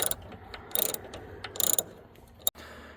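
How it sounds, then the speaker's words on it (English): A hand ratchet fitted with a Torx T30 socket backs out the headlight screws on a Ford Focus, making two bursts of rapid clicking and a sharp knock nearby, with no talking. "you will need either a screwdriver or a socket and a ratchet, Torx T30"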